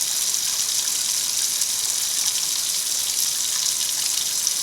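Water runs steadily off an Elerator dish drying rack, a continuous bright hiss and splash of draining water, close and fairly loud, with no talking.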